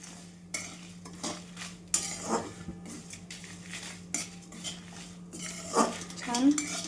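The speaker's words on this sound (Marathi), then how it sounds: "आणि याच्यामध्ये मी जिरं पण टाकून घेते. जिरं पण छान भाजून घेऊया." Cumin seeds dry-roasting in a pan while being stirred, with repeated light scrapes and clinks of a metal spoon against the pan over a low hum, quiet and close.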